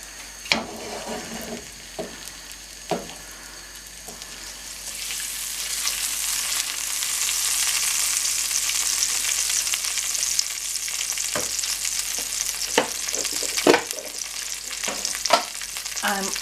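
Onions sizzle and fry in a pan for chow mein, a steady crackling hiss that grows louder midway, broken by occasional sharp scrapes and stirs.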